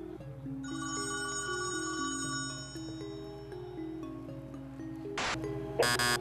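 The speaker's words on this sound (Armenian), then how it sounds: "ունենք էլի զանգ" A telephone rings with an incoming call during a television prank phone-in show, repeated electronic ring tones in a steady pattern over a background musical bed, ending in brief bright bursts, with no speech.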